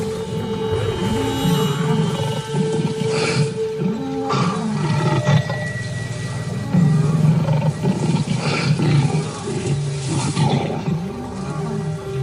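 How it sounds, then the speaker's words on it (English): Lions roaring at night during an attack on elephants, deep drawn-out roars and grunting calls repeating loudly and close throughout, with no speech. "The roaring in the dark intimidates and confuses the elephants."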